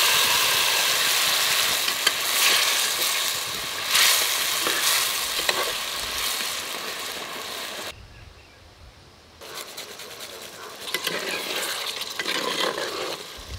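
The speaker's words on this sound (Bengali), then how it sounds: "মশলা কষিয়ে নিয়েছি, এই কষানো মশলার উপরে ভাজা ডিমগুলো দিয়ে দেব।" Fried eggs sizzle in a pan of cooked-down spice masala, a dense close frying hiss with stirring scrapes, briefly cut to near silence midway before the sizzling resumes.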